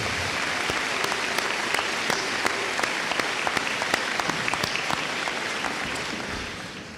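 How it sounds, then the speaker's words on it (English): Applause from a high school graduation audience fills the space with steady, dense clapping that holds throughout and tapers slightly at the end. "So let's give Simon a round of applause."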